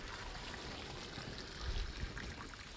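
Water being dumped out of a container outdoors during copper bullet casting cleanup, a soft continuous trickle and splash that briefly grows heavier partway through.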